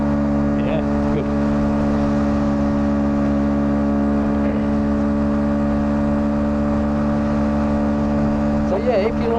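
A Bullit Hero 50cc motorbike with a double overhead cam engine drones loudly and steadily while being ridden in the cold, its engine note holding an even pitch close by.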